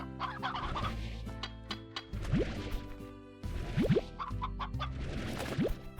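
Chickens and a rooster cluck and gobble continuously in a farm scene of a video game, layered over a busy game soundtrack with rising chirps, bright and fairly loud throughout.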